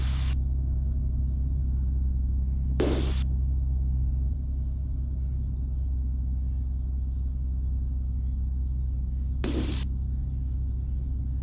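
A light aircraft's Corvair conversion engine drones steadily from inside the cockpit on the runway, a constant low rumble and hum at an even level with no clear surge of power.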